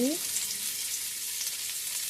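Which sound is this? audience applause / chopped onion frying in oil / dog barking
chopped onion frying in oil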